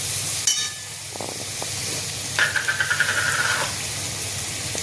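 Egg bhurji fries in a pan with basic spices, giving a loud, close sizzle and hiss, broken by a few spatula taps and a short burst of rapid stirring clicks.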